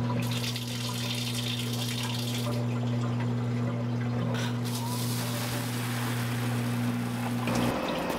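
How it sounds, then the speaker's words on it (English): Cold water runs steadily from a shower in a van, a constant close hiss of spray over a low mechanical hum, cutting off near the end. "I think I'm gonna have a cold shower."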